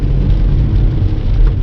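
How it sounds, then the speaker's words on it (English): Steady rain falling outside on a dark night, a dense, loud, continuous rumbling wash close by, with no talking. "You got to be careful out here in the rain and when it's dark and gloomy"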